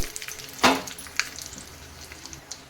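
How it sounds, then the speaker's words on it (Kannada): Mustard seeds, asafoetida and broken Byadgi red chilli fry in hot oil for a tempering, giving a continuous close sizzle broken by sharp crackling pops, one especially loud early on. "ಇದು ಈಗ ಒಗ್ಗರಣೆಯಲ್ಲಿ ಫ್ರೈ ಆಗಲಿ ಚೆನ್ನಾಗಿ"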